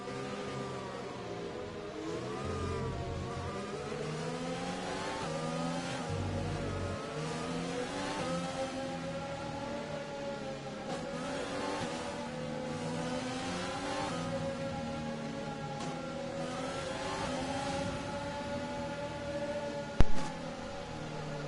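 Several F1 2020 race cars on the Chinese Grand Prix circuit accelerate together after a safety car period, a dense layered engine howl with rising revs sustained throughout, ending in a brief sharp knock.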